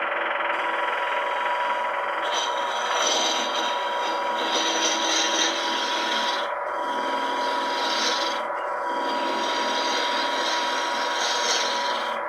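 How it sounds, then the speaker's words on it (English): A roughing gouge cuts a spinning wood blank on a lathe with a continuous loud rasping scrape, broken by brief pauses between passes, steady and close with no voices. "we can do this with a roughing gouge"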